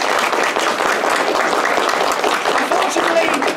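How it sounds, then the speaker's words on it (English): Dense, steady applause and clapping from an audience at a pony convention panel, with voices and cheers mixed in throughout. "in the audience there, Matthew Musselwhite, round of applause."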